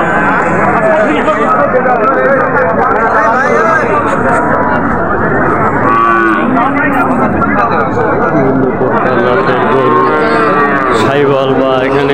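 Cattle at a busy Dinajpur livestock market low and moo loudly and continuously, several animals overlapping, while crowd chatter and babble fill the background throughout.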